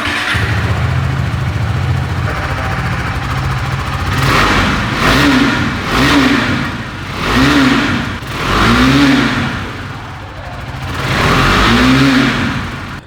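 The exhaust of a new KTM RC 390 motorcycle idles and then rises in a series of about five sharp throttle blips, each climbing quickly and falling back. It sounds loud and close throughout.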